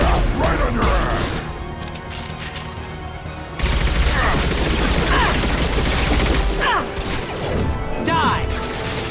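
Continuous gunfire in the video game Mass Effect 2: dense rapid bursts and impacts with whooshes, loud and sustained across the clip, while voices talk over the combat.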